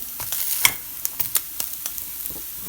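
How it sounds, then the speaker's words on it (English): Rice and lentil cutlets frying in a pan, a soft steady sizzle with a few sharp ticks and crackles as they are flipped and poked, close and without talk. "I flip my cutlets the second time and I poke them with my knife or with my fork"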